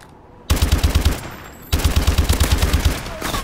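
AK-12 rifle fire in Call of Duty Advanced Warfare, two loud sustained bursts of rapid automatic shots with a steady rhythmic cadence, separated by a brief pause.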